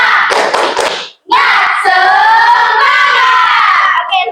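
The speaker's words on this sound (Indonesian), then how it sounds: "kita tepuk semangat supaya teman-teman bisa lebih semangat lagi" A classroom of children performs a rhythmic spirit clap: a brief burst of hand claps, then the whole group shouts together in unison, loud and close.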